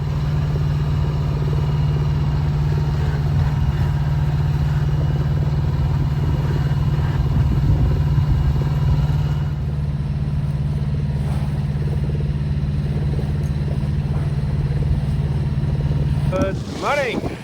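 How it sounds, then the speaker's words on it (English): Steady inboard engine drone of a 30 ft Norwegian sailboat motoring at sea, a constant low hum with a deep tonal band, continuous and fairly loud throughout, with a brief clatter near the end. "I'm also just considering just to use the engine"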